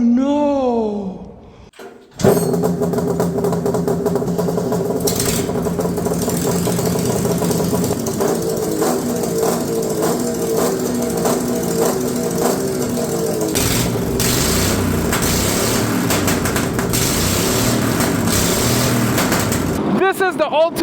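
A homemade lawn mower engine runs loudly and roughly, its rattling, knocking drone with wavering pitch continuing for most of the stretch after a brief pause near the start, with people talking over it.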